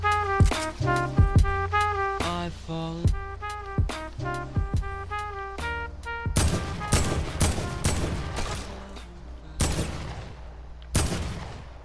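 Loud shotgun blasts and rapid gunfire in Fortnite Battle Royale, a dense run of sharp repeated shots over an electronic musical tone, followed by heavier spaced booms.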